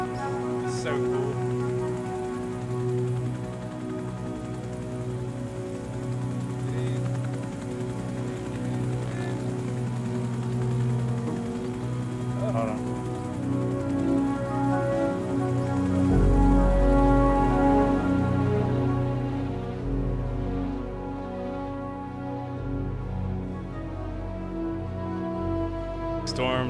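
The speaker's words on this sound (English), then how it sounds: "Storm, the rain." Rainstorm in the Arma 3 Prairie Fire video game, a steady, moderately loud patter and hiss of rain running throughout, with a low engine-like drone and someone talking over it.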